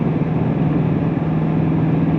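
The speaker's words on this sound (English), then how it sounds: "And that downshifted right out of the gate. Nice aggressive tone." 2024 Ford Mustang Dark Horse with its 500 hp Coyote V8 downshifting in sport mode on a drive, a loud, steady, close engine drone with a deep low hum throughout.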